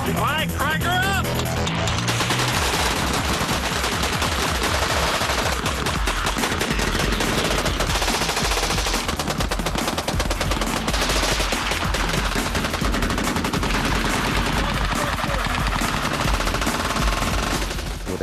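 A hand-cranked Gatling gun fires long, loud, continuous bursts of rapid shots that keep going for many seconds, with a brief mechanical lead-in at the start.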